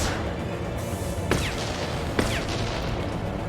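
Rockets fire and explode in Mass Effect 2 amid constant dense battle noise, with two sharp whooshing launches standing out about a second apart.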